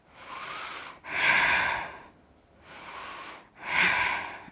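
Slow, deep breaths from a person holding a yoga bridge pose, two long airy cycles in which each exhale swells louder than the inhale before it, close and clear with no talking.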